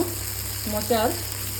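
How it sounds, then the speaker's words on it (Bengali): Bitter gourd slices frying in a pan, a steady low sizzle with a brief louder bubbling burst midway. "তো দেখুন করলা ভাজাটা বসিয়ে দিয়েছি, করলা ভাজাটাও হয়েই গেছে।"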